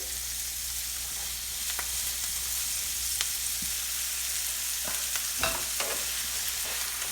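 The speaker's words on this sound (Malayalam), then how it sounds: "ഉപ്പൂടെ ചേർത്ത് വഴറ്റുമ്പോൾ സവോള പെട്ടെന്ന് വഴണ്ടി കിട്ടും" Onions sautéing with salt in a pan for a Kerala egg curry, a steady sizzle with occasional scrapes and clinks of a spoon stirring, close-up with no talking.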